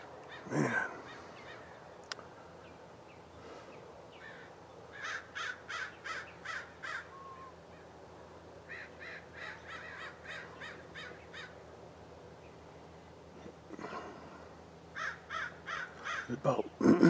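A flock of about five hundred crows calls from a nearby field in repeated bursts of harsh caws with quiet gaps between. Steady outdoor noise runs underneath, and a low voice is briefly heard.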